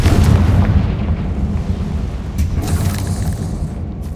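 A Confringo fire spell blasts in Hogwarts Legacy: one loud, deep, rumbling explosion that booms at the start, then rolls and fades into a long crackling tail, with no voices.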